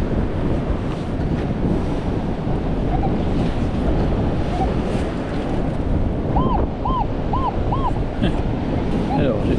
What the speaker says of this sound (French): les conditions météo sont pas extra, il y a beaucoup de vent